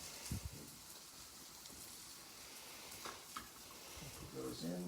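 Carrots and vegetables stir-frying in a hot pan, steady crackle throughout with a few louder scrapes and a brief voice near the end.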